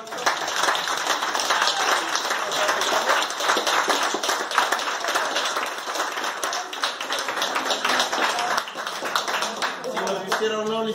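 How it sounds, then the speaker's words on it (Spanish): An audience at a posthumous recognition ceremony for a distinguished Oaxacan jurist gives sustained, dense applause close by, and a voice begins speaking near the end. "le brindamos un fuerte aplauso"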